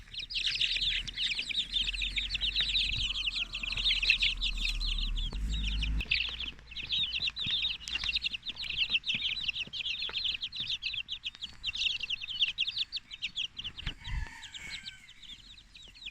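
Young chickens, miniature Brahmas, cluck and cheep steadily nearby, a dense run of chirps with scattered louder clucks and a low rumbling hum underneath.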